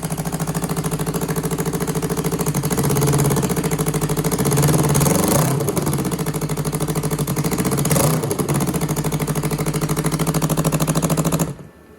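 A used street bike engine idling on a stand at around 1,500 rpm, a steady close throbbing idle with a few slight surges before it cuts off abruptly near the end.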